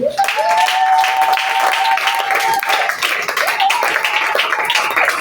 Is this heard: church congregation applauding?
yes